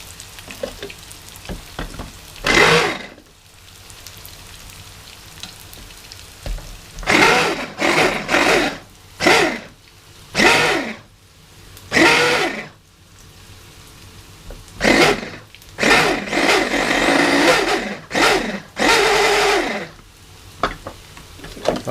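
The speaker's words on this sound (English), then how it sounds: "now we're going to add the ginger and garlic to the blender" A kitchen blender whirs in repeated short pulses and longer runs, blending ginger and garlic into a paste for chicken biryani, each burst loud and close with quieter gaps between.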